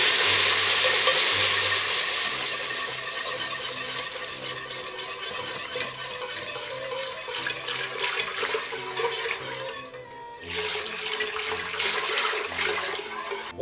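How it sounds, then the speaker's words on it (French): A whisk stirs liquid into a roux in a saucepan with a constant bubbling sizzle and scraping swirl, continuous and close, with no talking. "On prend un fouet, on mouille le roux tout en mélangeant."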